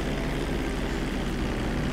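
Steady roar of a plane's engine during a crash landing in GTA V, a loud, dense, continuous drone with no talk.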